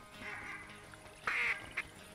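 Ducks in the hunting game theHunter Classic let out a few loud, nasal quacks. A short burst comes first, then a sharper double call, over a faint outdoor background.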